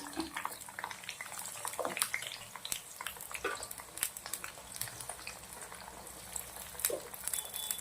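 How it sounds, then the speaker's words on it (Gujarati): Cabbage pieces frying in hot oil in a kadai give a steady bubbling crackle with scattered sharper pops, continuous and fairly close throughout. "કોબીને આપણે તેલના અંદર નાખી દેવાની છે, એકદમ સાવધાનીથી."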